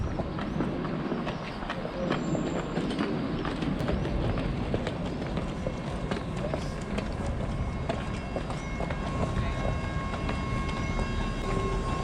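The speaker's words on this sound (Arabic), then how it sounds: "وحنا دابا في اتجاه البوراق، أسرع قطار في إفريقيا" Al Boraq high-speed train in Morocco, a continuous loud rumble and rhythmic clatter of rail travel with steady rolling noise throughout.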